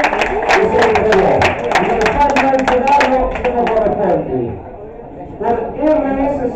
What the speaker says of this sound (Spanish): Un aplauso para ellos, por favor, en casa.